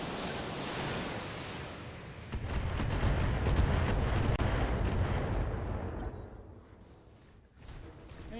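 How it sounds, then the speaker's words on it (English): Missiles launched at an Inferno mech during a sci-fi mech battle, a dense roaring barrage of blasts and crackling impacts that swells, holds for several seconds, then tapers, with sharp bursts scattered through the rumble. "Fire missiles at that Inferno"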